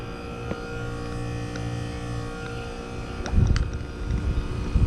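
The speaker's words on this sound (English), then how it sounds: "This fan motor's kind of messed up. And this probably has the almost dead run cap. Look how slow that fan's spinning." A heat pump's fan motor, running slowly with a nearly dead run capacitor, gives a steady low hum with faint rattling that gets rougher and louder toward the end.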